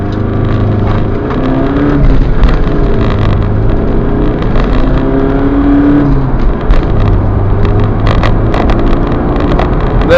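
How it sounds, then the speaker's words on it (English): Mitsubishi Shogun 3.2 diesel from 2002 with a manual gearbox accelerating hard from 0 to 60, a loud steady engine drone inside the cabin that rises in pitch and drops back at each gear change. "Okay, well, 0 to 60 test."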